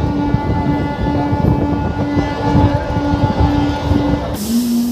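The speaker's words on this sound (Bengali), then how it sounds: "আমাদের ট্রেন চলে আসলো এখন জালালসি স্টেশনে" Local train on the Howrah–Amta line running toward a station, a loud close rumble of wheels and carriage with a sustained tonal whine, ending in a sudden hiss-like shift near the end.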